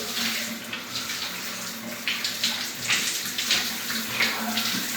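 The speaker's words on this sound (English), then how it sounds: "let me just rinse my head real quick" Water runs and splashes steadily while a freshly shaved head is rinsed, a continuous close faucet hiss with small irregular splashes throughout.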